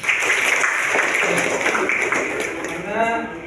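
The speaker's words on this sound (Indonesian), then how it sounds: "Gak apa-apa, tepuk tangan dulu." Children in an Indonesian classroom clap together at a teacher's prompt, a dense, steady patter of many small hands lasting the whole stretch, with voices mixing in near the end.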